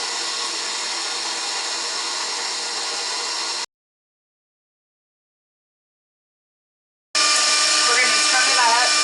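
An electric mixer beats cake mix for peanut butter and jelly cupcakes, a steady close whir that stops for a few seconds of silence and then starts again.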